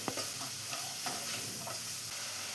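Papaya pickle being stirred and cooked in sesame oil gives a steady, close frying hiss broken by several soft scraping clicks of the spoon against the pan, with no voices.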